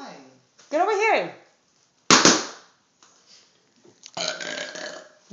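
Loud, close burps from children at home: a sharp sudden belch near the middle and a drawn-out croaking one toward the end, separated by quiet gaps, with a voice talking in between.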